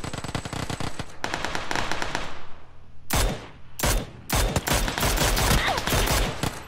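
Automatic gunfire in PUBG on PS4 rattles out in dense bursts and rapid strings of shots. Loud, close cracks come in several separate volleys with short gaps between them.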